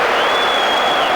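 A crowd applauds in a football stadium during a 1997 UEFA Cup match between Lazio and Rotor, a loud, dense wash of clapping and cheering that fills the brief moment with a steady roar.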